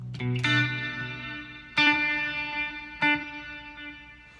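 Clean electric guitar chords through a Headrush rig ring out with a pulsing tremolo and trailing delay echoes, three strums spaced a second or so apart.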